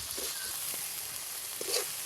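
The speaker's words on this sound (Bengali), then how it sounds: "মশলাগুলো একটু কষিয়ে নিব যতক্ষণ না মশলা থেকে তেল ছাড়তেছে" Whole spices, cardamom and cinnamon among them, fry in oil with a soft, steady hiss and a few light stirring taps, ending on a sharper click.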